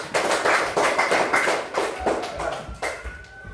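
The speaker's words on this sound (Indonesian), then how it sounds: "Oke, tepuk tangan" A class of students claps hands together in a quick burst of rhythmic, sharp claps, fairly close, followed by a few scattered claps trailing off.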